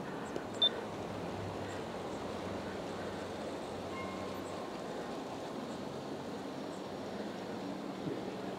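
A model passenger train of two Aristo-Craft heavyweight cars and three fluted-side USA Trains streamliner cars rolls along outdoors with a faint, steady rumble and one short click near the start.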